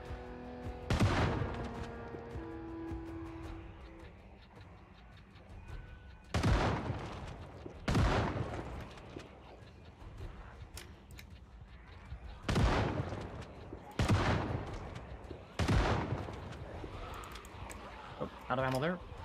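Gunfire from a zombie survival video game, several loud single shots spaced a few seconds apart, with a quieter clatter near the end, all over a low background.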